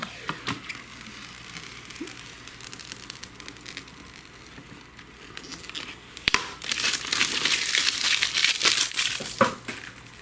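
Protective plastic film peeled off a Lian Li Q58 PC case, crinkling quietly at first and then swelling into a loud, continuous crackling tear after a couple of sharp snaps, close up with no voices.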